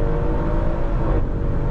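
A 2016 Audi RS6 C7 Performance in Dynamic mode accelerating hard from 100 to 200 km/h, its engine a loud, continuous rising roar heard from inside the car with no talking.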